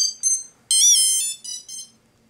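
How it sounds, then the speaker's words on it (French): Wistiki Voilà key finder ringing with a bright, high-pitched electronic melody in short bursts, one longer tone in the middle, clear and alone with no talk. "on déclenche la sonnerie et on le repère facilement"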